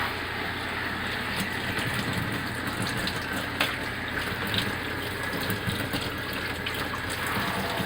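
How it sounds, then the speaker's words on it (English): Water sprays steadily onto the roof of a Coachmen Clipper Cadet camper, a continuous close hiss and patter with no pauses and no talking. "If I spray water up here, it'll start dripping."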